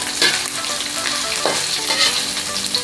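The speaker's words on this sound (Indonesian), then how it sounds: "kita goreng dulu sebentar, yang penting terinya matang" Anchovies (teri) sizzle steadily in a pan, with loud, continuous crackling and a few scraping stirs, close up and with no talking.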